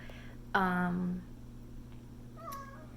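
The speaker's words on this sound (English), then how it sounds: "My cat is hungry as usual." A hungry pet cat lets out one loud, drawn-out meow close by, followed by a fainter short meow a moment later, over a steady low household hum.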